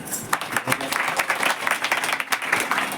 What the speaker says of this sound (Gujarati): તેના માટે આપણે તાળીઓથી વધાવી લે ભાવેશભાઈને.